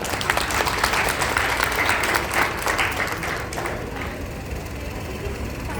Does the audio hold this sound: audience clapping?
yes